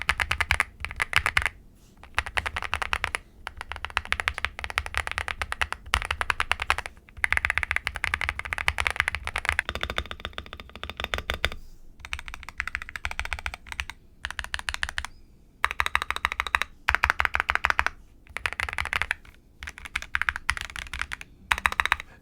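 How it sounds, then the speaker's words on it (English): Typing on a Gravastar K1 Pro mechanical keyboard gives close, steady bursts of deep, thocky key clacks, broken by short pauses. "What all this gets you is a great sounding keyboard that honestly has some of the best stock thock sound"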